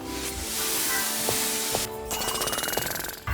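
Smurfizer healing spray in The Smurfs Mission Vileaf video game, a continuous hissing spray with a mechanical rattling pulse and brief tonal blips, cutting out briefly partway before resuming, loud and close.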